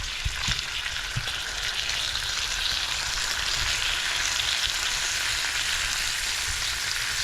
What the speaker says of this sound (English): Flip my sausages.